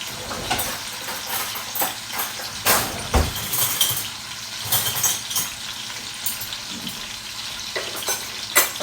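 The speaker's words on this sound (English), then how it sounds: "Okay, I'm going to sear it." Pork loin sears in melted tallow in a hot pan, a steady sizzle broken by scattered sharp crackles and pops, with occasional utensil clinks nearby.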